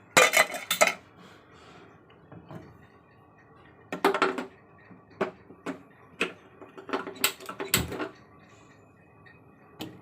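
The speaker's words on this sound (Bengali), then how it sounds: "তো চলুন ঢাকনা দিয়ে দিই, দিয়ে গ্যাসটা জ্বালিয়ে দেবো।" A metal lid goes onto a cooking pot in a home kitchen, heard as a few bursts of close clinks and clatters separated by quiet pauses, with no talking.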